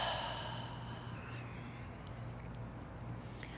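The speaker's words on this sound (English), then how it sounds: "Open mouth exhale." A slow open-mouth exhale during a guided yoga breathing exercise, a soft, steady airy breath lasting several seconds, close and quiet with no talking over it.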